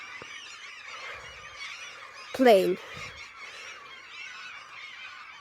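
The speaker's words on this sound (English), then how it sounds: "all the seagulls are screeching and they're eating all the seeds" A large flock of seagulls gathered on a farm field, feeding on seeds, keeps up a steady screeching chatter, with one loud, close call rising above the flock midway; a voice may be faintly present.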